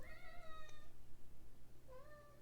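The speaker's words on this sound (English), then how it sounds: "The cats are very happy that I'm home and they want all my attention." A house cat meows for attention, giving one drawn-out, fairly close meow and then a shorter second one, both soft over a steady low hum.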